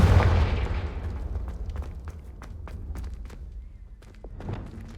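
Fiery Confringo spell blasts in Hogwarts Legacy: a heavy booming burst opens, then a run of sharp crackling impacts and thuds over a low rumbling bed, with another thump near the end.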